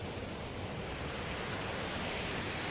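A small waterfall flows outdoors with a constant, even rush of water that holds a steady, moderate level. No voices are heard.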